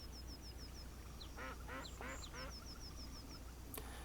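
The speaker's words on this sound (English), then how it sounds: "I can definitely hear a lot of little, like birds and whatnot out here." Ambient birdsong in the Second Life virtual world: a repeated series of quick high chirps runs across the scene, with a few low duck-like quacks in the middle, fairly faint against a soft background.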